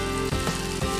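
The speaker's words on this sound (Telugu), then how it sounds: "సో టొమాటోస్ మనకు ఆల్మోస్ట్ ఫ్రై అయిపోయి అనుకున్నప్పుడు మనం బీరకాయ కూడా యాడ్ చేస్తే అది ఫ్రై అయిపోతుంది" Tomatoes and ridge gourd fry in a pan with a steady, close sizzle that runs the whole second, broken by a couple of brief dips.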